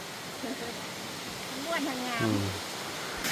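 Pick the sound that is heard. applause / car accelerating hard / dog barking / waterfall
waterfall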